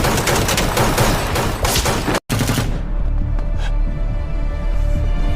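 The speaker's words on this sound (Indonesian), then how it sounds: "Lagi dan lagi, adegan baku tembak terjadi kembali" Rapid gunfire in a film gunfight scene, dense bursts of automatic shots for about two seconds, a sudden cut, then a ringing, lower rumble with scattered distant pops.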